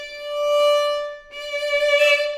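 Violin playing a steady, straight note without vibrato, two bowed strokes of a bright sustained tone, clear and close, with the second stroke slightly rougher; no speech.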